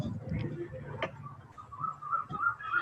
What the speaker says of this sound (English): able to hear birds chirping and stuff